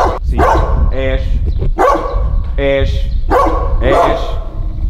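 A dog barks close and loud in a house near the coast, giving several sharp barks mixed with yelping whines in an uneven run, while people talk over it.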